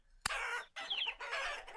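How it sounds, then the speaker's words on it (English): Chickens and roosters in the Vintage Story survival game: a sharp click, then two bursts of loud clucking and squawking fowl calls close up, with no talking. "I'm just checking in on the chickens, and look, we have 1 rooster, 2 roosters"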